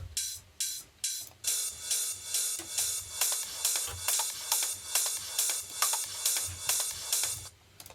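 Open hi-hat in an electronic track: a run of hissy, sizzling hat hits repeating in an even groove with soft low thumps underneath, heard alone and fairly loud for about eight seconds.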